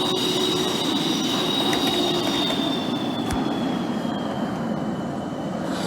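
A New York subway train rolls along in the OpenBVE train simulator game: a steady, loud rumble and rail noise with a high whining tone, continuous throughout.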